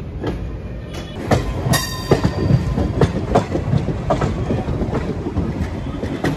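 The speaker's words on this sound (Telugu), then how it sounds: "ఇప్పుడైతే మన ట్రైన్ రాజమండ్రి రైల్వే స్టేషన్ దాటింది కదా" The Puri–Tirupati Express rolls out past Rajahmundry station, its wheels clattering in a steady rhythm over the rails with a loud, continuous rumble and a brief high squeal early on.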